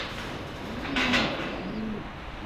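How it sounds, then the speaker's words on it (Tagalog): Pigeons in a backyard loft give soft, low cooing calls, a couple of short warbling phrases around the middle against a rainy outdoor background. "mga ibon ni Rambo."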